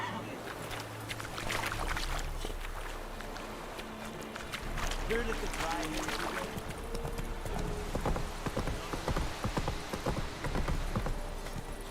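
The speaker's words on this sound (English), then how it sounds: "Not so fast, Roach. Giddy up" Horse hooves gallop in The Witcher 3: Wild Hunt, a quick, steady clip-clop of a ridden horse that runs throughout, fairly faint, with rustling game ambience.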